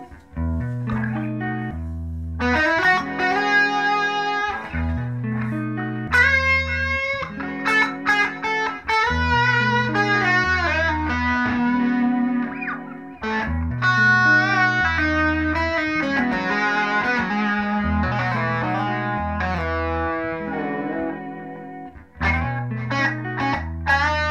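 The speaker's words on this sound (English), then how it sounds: "This is the Screamer distortion pedal that comes with that." A Carvin DC127C electric guitar played through a Screamer distortion pedal on the bridge pickup rings out in sustained, crunchy chords and riffs, loud and close, with brief pauses between phrases.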